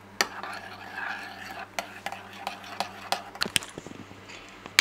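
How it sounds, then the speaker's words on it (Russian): A spoon scrapes and clinks against a pot in irregular strokes as butter is stirred into caramel, with soft stirring sounds and a faint low hum behind. "Перемешиваем, получается, масло, пока не растворится в карамели."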